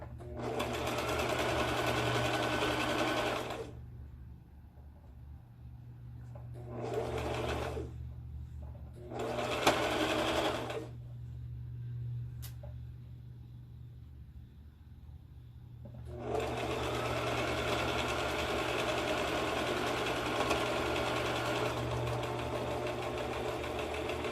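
A small sewing machine stitching quilt pieces together for a scrappy flower basket block, running in steady whirring bursts: a long run, two short spurts, then another long sustained run, with a low motor hum underneath throughout.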